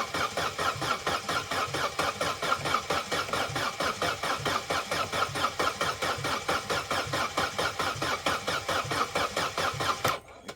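A Vauxhall Corsa B engine cranks over without catching, a rapid, uneven rhythmic chugging of the starter that goes on steadily and loud up close before stopping abruptly at the end.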